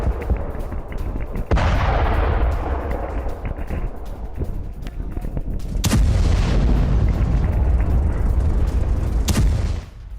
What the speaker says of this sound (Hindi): आईईडी के जरिए हिजबुल्लाह की पूरी टनल को तबाह कर दिया गया